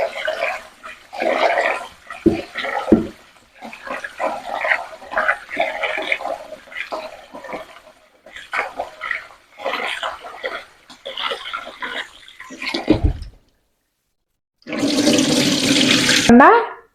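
Rice is rinsed by hand under running water while cooking prawn and pineapple fried rice, with bursts of splashing and sloshing, then a strong rush of water from a tap toward the end.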